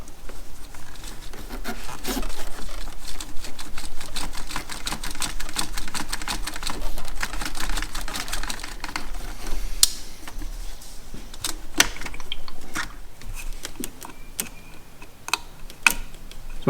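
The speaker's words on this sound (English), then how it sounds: "I'm going to pull those hoses off." Hoses being tugged and pulled off from under the throttle body of a Honda J-series 3.5/3.2/3.7/3.0 V6, a steady run of close rubbing and ticking with sharper clicks and snaps near the end, no talking.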